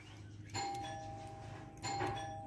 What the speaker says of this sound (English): one more test is to test the doorbell